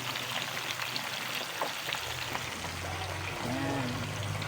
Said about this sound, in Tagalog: Galunggong, ipiprito natin, guys.